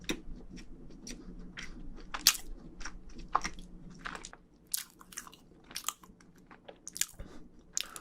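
Someone eats scones spread with jam in close mukbang style, with soft, moist chewing and occasional sharper bites and crunches in an irregular rhythm, with no talking.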